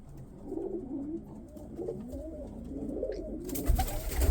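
Pigeons coo repeatedly inside a pigeon loft, soft rolling calls overlapping near and at moderate volume, with some fluttering and knocking noises building toward the end.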